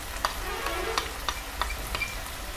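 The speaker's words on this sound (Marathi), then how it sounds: "हे 2 चमचे घरगुती मसाला आहे, हा व्यवस्थित परतून घेऊया." Onion, tomato and homemade masala stir-fried in a pan, a steady sizzle broken by a regular series of sharp spatula scrapes against the pan, about six strokes in quick rhythm, no speech.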